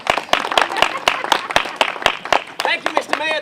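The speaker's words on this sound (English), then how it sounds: "Please, a round of applause for Mr." Audience applause in a small theatre at a community May Day show, sharp claps ringing out across a few seconds with voices mixed in and some talking over the end.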